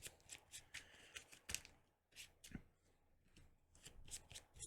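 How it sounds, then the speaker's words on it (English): Playing cards from a tabletop superhero card game are shuffled close up, a series of quick riffling and sliding bursts with short pauses and a soft knock in between. "Shuffle that back in."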